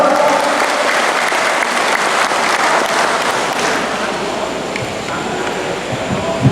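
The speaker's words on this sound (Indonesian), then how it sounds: "disilakan tepuk tangan yang meriah untuk Bapak Sigit Suroto." Loud, dense applause from a large crowd honoring Sigit Pamungkas and Suroto at a formal event in Sragen, a steady wash of clapping sustained throughout with a faint voice here and there.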